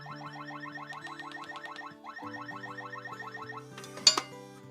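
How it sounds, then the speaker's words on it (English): A Wyze gun safe's alarm goes off after a wrong fingerprint: a repeating, clinking electronic beep pattern that runs steadily, breaks briefly, resumes, then ends in a sharper burst near the close. "don't know if you guys could hear that alarm going off"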